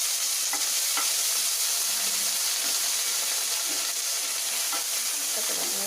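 Cut beans tossed into a hot pan and stir-fried, a steady broad sizzle with faint stirring scrapes running for several seconds, no talking.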